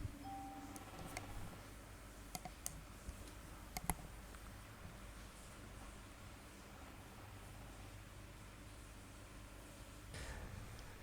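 Sparse, faint computer mouse clicks come from a desk while someone works in Global Mapper mapping software, with a few sharper clicks standing out over a steady low hiss.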